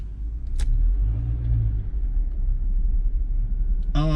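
A 2019 Jeep Wrangler Unlimited with a 2.0 turbo engine accelerates, a close, loud low rumble that rises and holds, ending with a brief voice.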